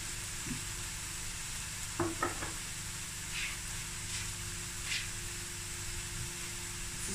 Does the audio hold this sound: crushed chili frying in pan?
yes